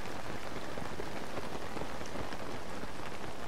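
Steady rain falls in Zelda: Tears of the Kingdom, a dense, even patter of drops across a surface with no talking.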